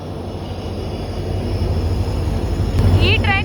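Vijayapura Express from Yeshwantpur to Vijayapura at Almatti station, a steady low rumble of a passing train rising slightly toward the end, with a brief high squeal near the close and faint voices in the background.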